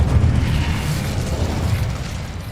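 Incendio fire spell blast in Hogwarts Legacy, a loud booming burst with low rumbling that slowly fades over a couple of seconds, no speech.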